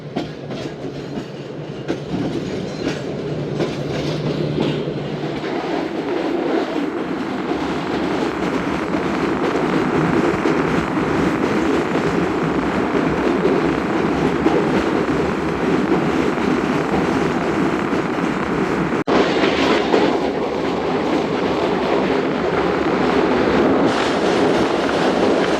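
The Shalimar Express runs at speed after pulling out of Bahawalpur, heard from inside with a loud, continuous rumble and rhythmic clickety-clack of wheels over rail joints throughout.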